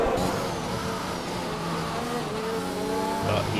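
Racing video game cars, an Aston Martin and Red Bulls, running close together. Engines whine steadily at high revs with shifting pitch and a faint tire squeal, loud and continuous throughout.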